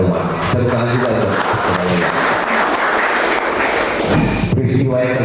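Sustained audience applause fills a televised national dialogue forum, loud and dense throughout with voices and cheering mixed in.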